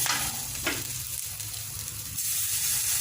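Curry leaves hit hot oil in a pan with a sharp burst of steady sizzling and frying hiss, continuous and close throughout, growing slightly louder toward the end; no one speaks.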